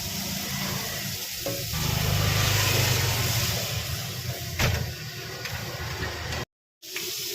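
Turmeric and ginger-garlic spice paste fries in a pan with a splash of water added, giving a steady, fairly loud hissing sizzle that swells midway and cuts out briefly near the end.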